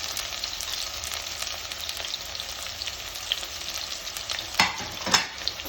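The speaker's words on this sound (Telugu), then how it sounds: "సన్నగా తరిగిన ఉల్లిపాయ ముక్కలు అలానే పచ్చిమిరపకాయలు కూడా వేసేసుకుందాం" Thinly sliced onions and green chillies fry in mustard oil with a steady broadband sizzle and stirring scrapes, rising into a couple of louder crackling bursts near the end; no voices.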